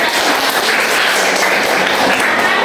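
Children clap their hands together in a classroom, producing a loud, continuous patter of many overlapping claps with no clear pauses.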